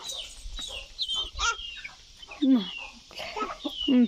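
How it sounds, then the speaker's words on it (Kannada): Several chickens cluck and squawk nearby in short bursts, mixed with faint chirping and a person talking softly. "ಅಲ್ಲಿರೋ ಕೋಳಿ ಅಲ್ವಾ ಪಪ್ಪು?"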